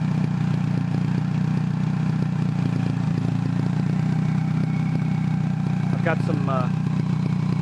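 A turbocharged VW Beetle engine with small baffles in the tailpipes idles with a steady, close, low rumble while someone talks over it.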